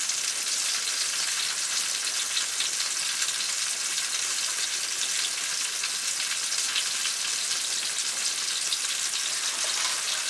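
Potatoes fry with salt, garlic powder and Parmesan at a hunting camp, giving a dense, steady hiss and crackle that stays close and even with no talk.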